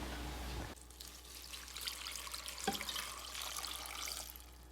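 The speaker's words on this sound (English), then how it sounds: "Fill your big cup with nettles and pour in about 1 liter of water." Roughly a liter of water poured onto fresh nettle leaves in a blender cup, a soft continuous splashing trickle that starts after a short low hum and runs steadily to the end.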